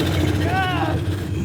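A supercharged Cobra engine with a blower revs up toward about 2,000 RPM, giving a steady close rumble with a brief rising whine, as someone talks over it.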